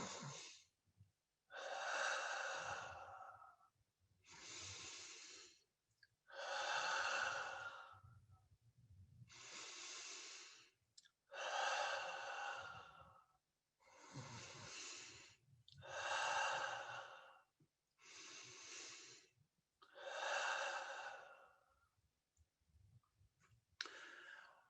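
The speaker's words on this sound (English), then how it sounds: "we're going to take 5 deep inhales through the nose and exhales through the mouth" A person takes slow, deep breaths, drawing in through the nose and blowing out through the mouth, about ten close, airy breaths in an even rhythm with short silent gaps between them.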